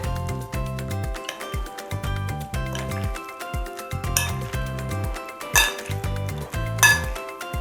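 A spoon scrapes and clinks repeatedly against a bowl while stirring vinegret beet salad dressed with oil, in a steady rhythm, with a few sharper knocks, close up and without talk.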